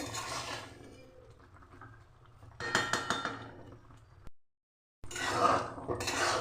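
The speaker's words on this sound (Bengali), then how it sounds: "এভাবে হালকা হাতে করে আমি একবার করে নাড়িয়ে দেবো" Green mango preserve (raw mango morabba) is gently stirred in a pot, giving a few soft scraping clinks of a spoon against metal in short bursts separated by pauses, with no voices.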